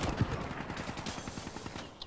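Rapid gunfire in a video game shootout: a fast, steady rattle of muffled shots runs throughout at a low, distant level.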